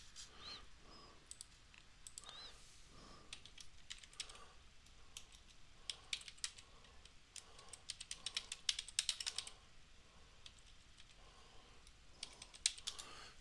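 Keys clatter on a computer keyboard in fast bursts of typing, faint and fairly distant, with brief pauses between runs and a busier flurry near the middle.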